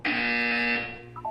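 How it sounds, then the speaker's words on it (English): A loud, sustained electronic buzzer tone sounds once in the Portal 2 test chamber, holding steady before tapering off, followed by a brief electronic chirp. "When you hear the buzzer, look down at the floor."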